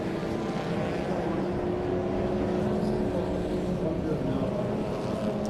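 BMW M Performance Parts Race Series cars roll along behind the safety car, a steady distant engine drone filling the scene under faint commentary.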